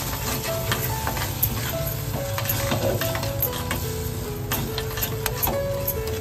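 Tomato-cashew paste being stirred into a mushroom curry in a hot pan, a steady sizzle under repeated scraping strokes of a spoon against the metal, no voices.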